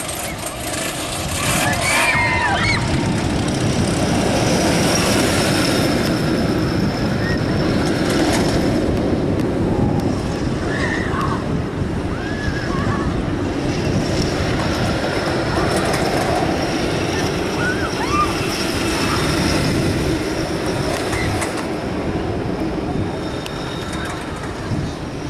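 Storm Chaser roller coaster train at Kentucky Kingdom running continuously as a steady, loud, dense rumble and roar with rattling track noise. Faint voices appear intermittently.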